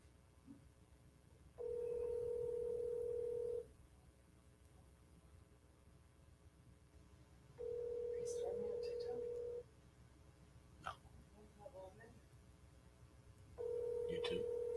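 A telephone ringback tone sounds three times while a call goes out, each steady tone lasting about two seconds and separated by long pauses, with faint voices and quiet room noise in the gaps.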